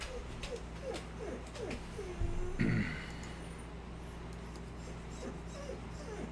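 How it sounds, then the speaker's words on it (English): A dog whines close by in repeated short, high, rising whimpers, a steady run of faint cries over a low background hum with a brief thump in the middle. "This dog would just get right beside me and just whine for an hour straight."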